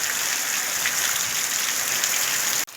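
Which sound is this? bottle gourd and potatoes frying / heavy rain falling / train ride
heavy rain falling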